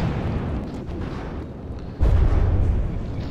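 Cram cannons fire during a ship battle in the From the Depths video game, producing a continuous low rumble of booms with a heavier impact partway through.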